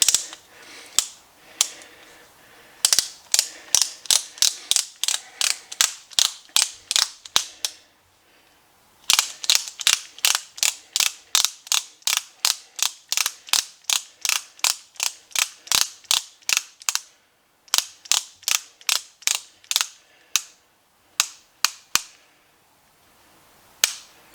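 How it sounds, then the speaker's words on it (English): A ratcheting torque wrench tightens the front hub bolts on a 1993 Chevy pickup, giving close, crisp runs of rapid clicks in repeated bursts with short pauses between strokes. "put the proper amount of torque on those."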